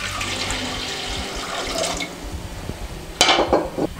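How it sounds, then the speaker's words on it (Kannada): Water is poured into a pressure cooker sitting on a gas stove, a brief splashing and trickling pour followed by a sharper splash near the end, heard up close in a kitchen. "ಇವಾಗ ಅದಕ್ಕೆ ಒಂದು ಸ್ವಲ್ಪ ನೀರನ್ನು ಹಾಕಬೇಕು"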